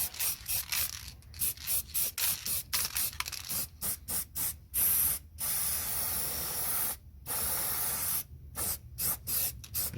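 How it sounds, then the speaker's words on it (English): Aerosol spray of red oxide primer fired into the rear sills of a Porsche 924, close, hissing bursts in quick irregular pulses with short gaps, then longer sustained blasts. "fire plenty of primer into the sills"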